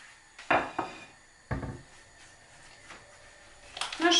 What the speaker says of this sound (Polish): Bierzemy talerz, na który będziemy wykładać.